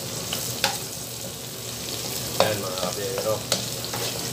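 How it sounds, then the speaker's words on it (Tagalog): Chopped onion and browned garlic fry together in a home pan for chop suey, a steady mid-level sizzle with a few stirring scrapes and clinks, while someone speaks briefly. "isunod na natin yung ating sibuyas para sabay siyang maluto ng bawang"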